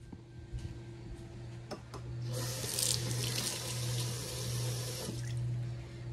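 Tomatoes are washed under a kitchen tap for home-canned ketchup. The running water is faint at first, then gushes into the sink for a few seconds before easing off under a low steady hum.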